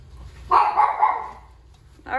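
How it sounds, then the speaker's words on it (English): A dog barking indoors, a short burst of a few quick close barks, then a pause before another bark starts at the end. "There goes my doggies barking."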